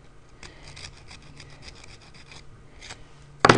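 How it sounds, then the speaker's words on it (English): Fast, rhythmic rasping strokes of a fingernail file sanding a small ring, close up and fairly quiet, ending with a sudden louder knock. "you can also use a little sanding paper, or like I said, a fingernail file works great"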